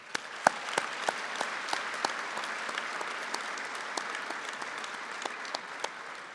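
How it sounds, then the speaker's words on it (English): A convocation audience applauds graduates' families, with scattered, fairly soft clapping from a large hall and sharp individual claps standing out over a steady patter for several seconds. "I think they deserve a round of applause as well"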